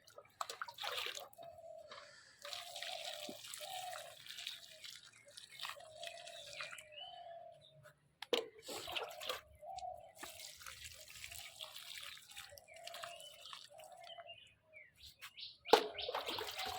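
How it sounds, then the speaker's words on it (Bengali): Water is poured little by little onto the soil of a potted lily, making faint, soft trickles and drips in short repeated spells, with birds calling in the background. "এবার অল্প অল্প করে জল দিয়ে দিতে হবে"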